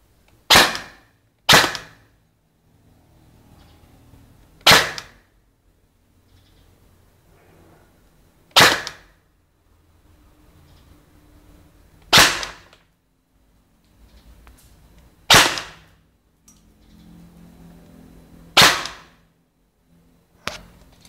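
Eight sharp, loud shots ring out from a stubby ABS gun during a velocity test. They come at irregular intervals a few seconds apart, with faint handling noise between them.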